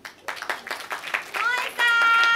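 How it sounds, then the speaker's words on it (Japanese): Applause and cheering for a dance team at a dance event, steady clapping from a crowd under a loud voice, building into a sustained roar near the end. "拍手。"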